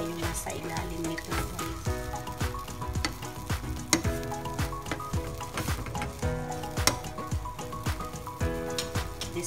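An egg frying in a pan gives a continuous close sizzle with crackling pops and occasional sharp spits, steady throughout the clip, and a voice speaks over it now and then.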